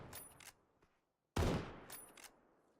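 Gunfire in PUBG custom-match play, a quick burst of distant shots, a pause, then a louder close cluster of shots that trails off, fairly faint overall.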